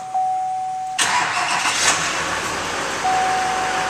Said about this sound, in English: Vehicle starts right up.